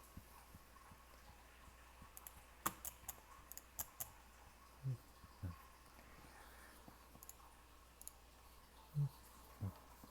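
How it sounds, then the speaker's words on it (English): Sparse, faint clicks of someone typing a command on a computer keyboard, a short cluster of keystrokes under a low room hum with a few soft thumps. "as you can see, Joe right now is typing a command"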